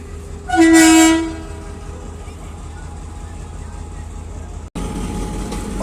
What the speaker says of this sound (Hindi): और पीछे से भी एक ट्रेन आ रही है।